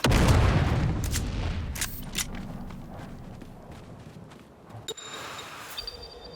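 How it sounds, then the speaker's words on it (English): Grenade blasts and gunfire in the Dune Awakening video game, a heavy booming burst up front followed by scattered shots and impacts fading into a quieter stretch with sharp cracks near the end. "with our friend coming from above and throwing out one more grenade"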